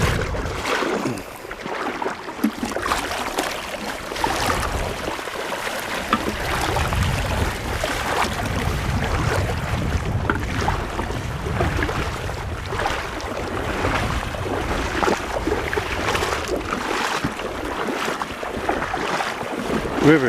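A low Colorado river flows and babbles steadily outdoors, with gusts of wind buffeting the microphone throughout and no talking.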